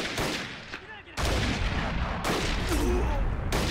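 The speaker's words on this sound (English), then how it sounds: "That artillery is just too much." Artillery shelling in a war video game battle at a bridge: heavy booming blasts land in quick succession, each followed by a sustained rumbling roar, loud and close with a short lull between impacts.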